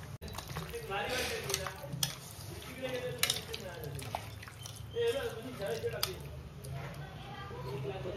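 Marinated chicken for butter chicken gets mixed by hand, with soft wet squelches and stirring scrapes in a home kitchen while a person talks throughout.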